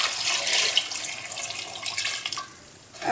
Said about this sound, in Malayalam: 3 കപ്പ് വെള്ളമൊക്കെ ഒഴിച്ചിട്ടുണ്ട്.